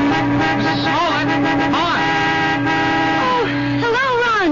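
A brand new car's horn honks in a radio drama scene, a few short toots close by, with a voice speaking over them and faint background music.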